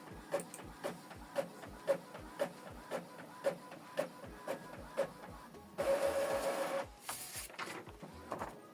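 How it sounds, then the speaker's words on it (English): An Epson WF-2950 printer runs through a test page with rapid mechanical clicks and ticks at a steady pace, then a louder whirring feed and shuffle near the end. "it's printing a test page to confirm the connection"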